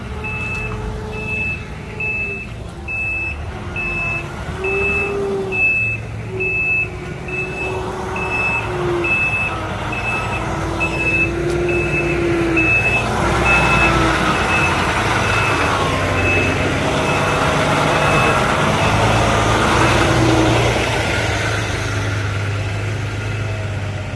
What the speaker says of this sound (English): We got a truck coming over for a delivery or something.